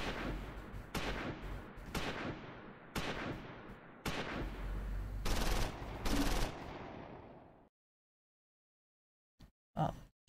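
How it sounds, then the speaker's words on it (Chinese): Rapid bursts of gunfire from the Normandy wartime combat game Close Combat 5, loud repeated volleys of rifle and machine-gun shots that fade into silence, followed by a couple of brief sharp reports at the end. "选这个射击，点这个建筑，来了，开枪的第一声最大。"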